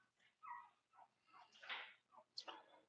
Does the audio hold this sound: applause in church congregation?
no